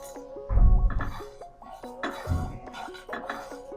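Cinnamon, cloves and cardamom being roasted in a pan bring a few dull clanks and scraping knocks of a utensil against metal, close by, while someone speaks throughout.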